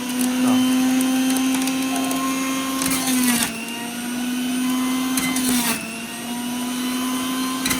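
A blender whirs loudly and continuously while blending cucumber, amla and ginger juice, a steady motor drone interrupted twice by brief pauses and shifts in pitch as the load changes.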